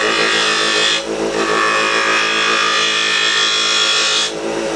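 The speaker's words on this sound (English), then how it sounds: "I will also somewhat hollow out this with a scraping cut." A wooden EDC box hollowed out on a lathe with a scraping cut, producing a loud, steady rasping hiss over the motor's hum, briefly easing twice as the tool lifts off the spinning wood.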